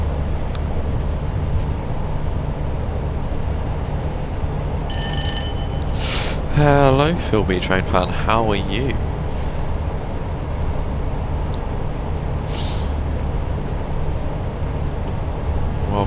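Freightliner intermodal freight train 4M83 from Glasgow Freightliner Terminal with new wagons, rumbling steadily as a low continuous roar with brief squeals and a rising tonal whine midway; someone speaks over it.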